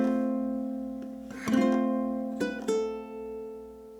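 A ukulele plays the opening bars of Greensleeves, with clear ringing notes and a few plucked chord strokes that sustain and fade, heard alone.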